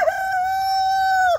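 A rooster on a farm crows once, a loud close sustained call that ends abruptly.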